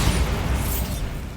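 A loud, dense blast from the Bombarda spell in Hogwarts Legacy fills the moment with a rumbling, crackling roar that holds strong before tailing off slightly.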